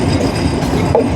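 Banalata Express pulling out of Ibrahimabad railway station, a steady onboard rail rumble with light wheel clatter and a faint squeal, continuous and close.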